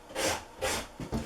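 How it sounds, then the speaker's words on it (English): Saddle foam edges rubbed with 60 grit sandpaper, heard as three short close scraping strokes in quick succession, soft and dry. "Then I took a piece of 60 grit sandpaper"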